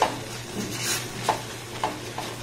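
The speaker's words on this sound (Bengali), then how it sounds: "আবারও দেখুন খুব ভালোভাবে সমস্ত উপকরণ এইভাবে নাড়াচাড়া করে একটু ঘন করে বা একটু মাখো মাখো করে নিচ্ছি।" A spoon stirs a thickening kheer filling flavoured with cardamom in a pan on the stove, sounding as soft scraping and gentle bubbling with a few brief louder knocks, close by and with no talk.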